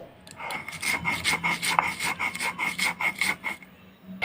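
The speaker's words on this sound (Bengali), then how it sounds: "আমরা এখানে শিলের মধ্যে বেটে নিচ্ছি মশলাটাকে" Coarse rhythmic rasping of mustard seed and green chilli being ground into paste with salt on a stone shil, steady back-and-forth strokes at close range, no talking.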